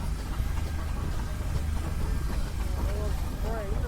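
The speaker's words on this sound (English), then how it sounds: "The next is a McLaren tractor" A McLaren steam traction engine runs at a steam rally, giving a steady low mechanical rumble amid crowd noise, with someone talking over it.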